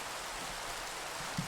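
Steady rain falling in a modded Minecraft world, a constant even hiss of drops with no voices, continuous and fairly faint throughout.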